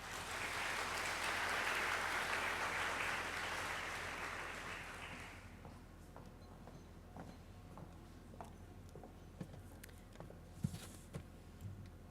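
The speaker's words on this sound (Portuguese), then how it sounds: "Vou pedir mais uma salva de palmas" An audience at an academic event bursts into loud, dense applause that fades after about five seconds into scattered claps and faint room noise, with no talking.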